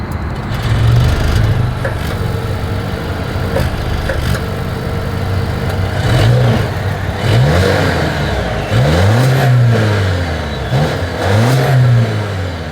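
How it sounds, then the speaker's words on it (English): Exhaust note of a 2023 Volvo XC40, heard alone at a steady idle before a run of rising and falling revs, each blip climbing and settling back, loud and close throughout. "As always, here is that exhaust clip."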